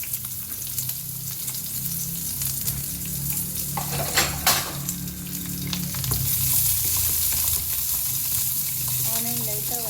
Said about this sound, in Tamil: ஆனியன் லைட்டாக வதக்கணும், ஜாஸ்தி வதக்கக்கூடாது.